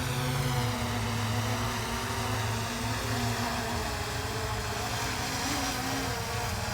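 A Holy Stone HS600 beginner drone whirs with a steady, high propeller buzz, its pitch wavering slightly as it hovers close by, loud and continuous with no speech.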